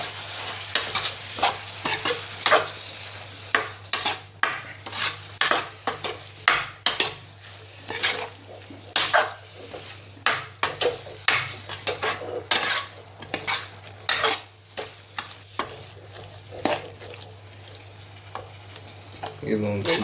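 A utensil stirs mandakki egg bhurji in a frying pan over a quiet sizzle, repeated irregular scraping clinks against the metal pan, close up.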